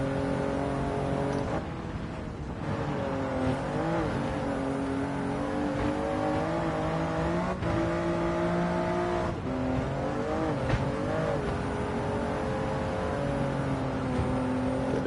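A race car engine in Gran Turismo 7 drones and revs through shifting pitches, bogging down as the tone sags, with tire noise and loud continuous engine sound throughout; the car may be a Chaparral 2J or GR Yaris.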